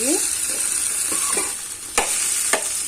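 Okra (ladies finger) sizzling in a pan as it fries, close up, with a few distinct scraping stirs of a spoon through the pieces over the steady hiss.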